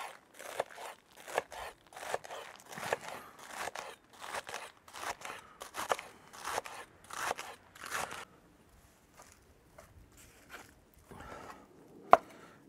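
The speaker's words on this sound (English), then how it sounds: "little gem lettuce. Just going to finely shred it, so cut it lengthways" A knife finely shredding little gem lettuce lengthways on a board: a fast run of crisp, crunchy chopping strokes for about eight seconds, then a few sparse, quieter cuts and one sharp knock, close and without talk.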